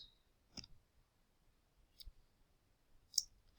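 Three faint, sharp mouse clicks are spaced about a second or more apart in an otherwise quiet room.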